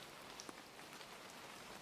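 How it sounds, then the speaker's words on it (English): Steady rain pattering against window glass, a soft, even hiss of drops with an occasional louder tap, faint and continuous with no voices. "Rain fell steadily against the glass."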